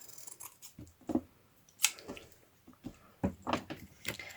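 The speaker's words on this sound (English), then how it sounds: "I think I need to cut this piece off and this piece." Close, soft snips and crisp rasps as scissors trim pieces off paper for a craft page, arriving in an uneven run of short cuts with one sharper crackle partway through and no voice over them.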